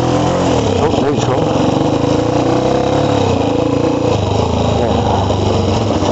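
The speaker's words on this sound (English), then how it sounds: "my bike's pretty loud" A loud motorcycle engine runs close by in a steady, rough drone that continues throughout, with one brief spoken word over it.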